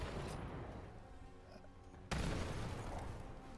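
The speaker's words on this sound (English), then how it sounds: "That last grenade was good." A grenade goes off in Fallout 76: quiet game ambience, then a sudden loud blast that opens into a sustained, broad roar lasting to the end.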